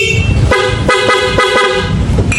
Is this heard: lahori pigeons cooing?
no